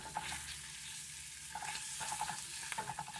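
Bacon fries in a pan with a steady, faint hiss of sizzling grease and small crackles, close by and without talk.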